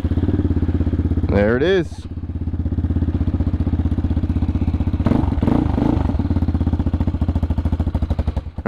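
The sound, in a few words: Honda Hawk 250 motorcycle engine cold start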